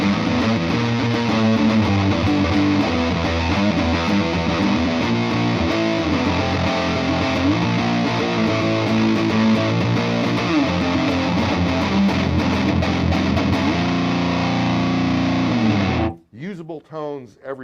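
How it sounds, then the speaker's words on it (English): A Reverend Robin Finck signature electric guitar with blade pickups, played on the neck pickup through a fuzz pedal, gives a thick, saturated, distorted riff that holds loud and steady before cutting off near the end. "I think does the fuzz thing really, really well. And again, it's part of those blades keeping the bottom end tight, even with the fuzz pedal on the neck position"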